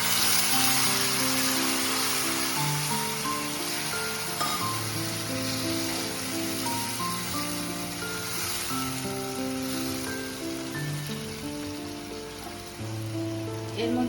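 Pointed gourd peel paste hits a hot pan and sizzles in a steady, bright, rain-like hiss that carries on the whole time, with a low tonal hum underneath.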